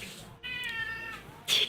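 A pet cat named Mink meows impatiently for treats, one long drawn-out harmonic meow up close followed by the start of another sharp cry.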